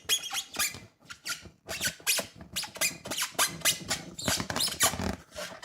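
Rubber squeals sharply again and again as a balloon is twisted and knotted, a dense, close sequence of high chirps and scratchy rubbing with only short gaps.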